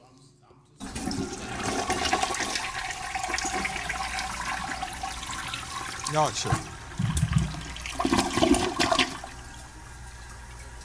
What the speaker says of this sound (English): I got to get the thing fixed on my toilet